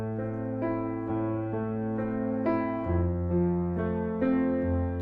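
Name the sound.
piano arpeggio pattern over a chord progression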